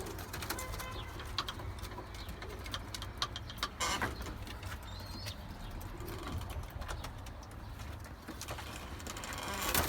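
Soft tumbler pigeon coos murmur through a steady background hum, with scattered clicks and rustles from birds and chicks nearby.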